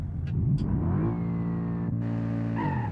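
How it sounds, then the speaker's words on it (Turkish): An Audi RS7's engine revs hard under throttle in BeamNG.drive, the pitch climbing with a couple of short blips, then holding a strong, steady roar close up. "Bas gaza."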